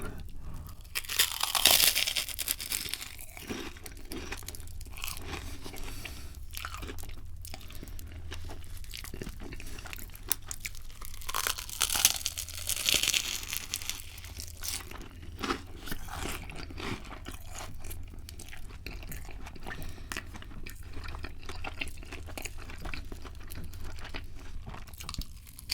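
Crunchy Chinese chicken feast eaten close to the mic in an ASMR setting, with steady crisp crunching, biting and tearing bursts continuing throughout, no talking.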